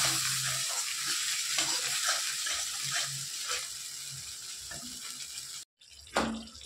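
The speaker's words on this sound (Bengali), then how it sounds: "দিয়ে আবারও ভালো করে কষিয়ে নেব মশলাটা" Masala with sour yogurt sizzles in a pan for a vegetarian paneer and potato dish, with repeated stirring scrapes in an uneven rhythm, a brief silent break, then one more close scrape.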